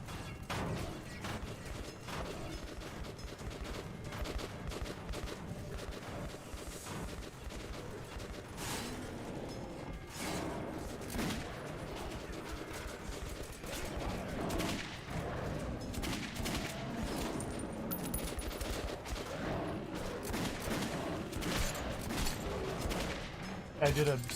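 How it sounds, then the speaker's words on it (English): Gunfire in the video game Metro 2033 comes as dense bursts of shots and rattling fire over a busy, continuous game soundscape, with talk mixed in. "Shoot that wall, friend."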